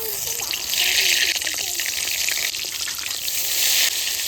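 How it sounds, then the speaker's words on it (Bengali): Oil crackles and sizzles steadily as eggplant slices fry in a pan, a continuous close hiss with small pops, no talking. "বেগুন ভেজে নেবো"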